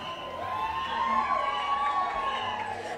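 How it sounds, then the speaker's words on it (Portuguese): Fan groups cheering at a festival queen pageant, the first FECRIS, heard as a distant, continuous crowd roar with a shrill whistle-like tone held above it through the clip. "Vamos colocar o microfone para o pessoal ouvir as torcidas?"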